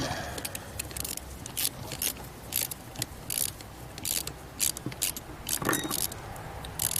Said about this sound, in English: Get my screws put back in.